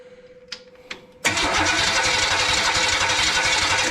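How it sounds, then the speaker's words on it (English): A rebuilt Chevy 350 Vortec V8 catches and fires up after two short clicks and a steady hum, then runs loud and rough with a continuous throbbing roar close by. "Let's see if she fires up without no choke. Give her a little gas here."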